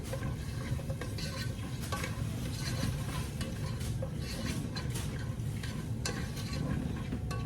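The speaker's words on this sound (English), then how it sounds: "Just put that in there, and you're going to stir that all up." Diced onion, green pepper and minced garlic stirred together in a sizzling pan for chili, giving a steady, close hiss with scraping and clinking from the spoon throughout.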